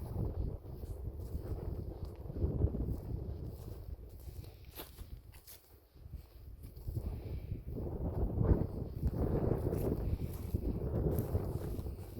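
Gusty wind buffeting the microphone on a hilltop, a low rushing roar that swells and fades in waves, with occasional crunching steps underneath.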